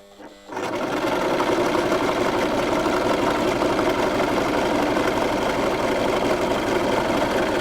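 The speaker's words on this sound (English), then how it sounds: "I line this line on the first line here and I start sewing." A sewing machine stitching fabric pieces for a patchwork quilt runs at a steady fast whir, loud and close, starting abruptly and continuing unbroken with no voice over it.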